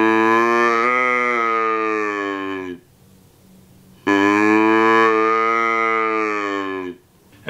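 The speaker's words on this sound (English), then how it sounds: "If you thought it was the black bear, you were right." A black bear call: two long, loud, harmonic-rich moaning bellows, each about three seconds long, separated by a short pause, with no other sound around them.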